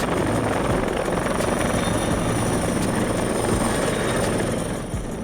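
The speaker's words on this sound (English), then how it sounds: "Firefighting helicopter." A firefighting helicopter thunders steadily nearby, its rotor chop and turbine whine loud and continuous, easing slightly at the end.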